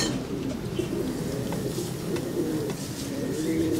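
Breeder pigeons coo softly in low, repeated throaty notes within a steady, noisy background, the calls faint and blending into the ambient hum.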